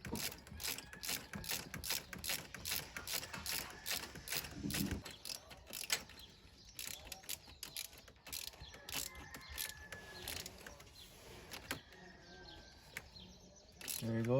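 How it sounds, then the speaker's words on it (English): A ratchet clicks in quick rapid bursts while a bolt on a Pontiac Vibe starter is tightened, the close, sharp clicking repeating in short runs with brief pauses between strokes. "So now I'm gonna use the ratchet and just tighten it the rest of the way."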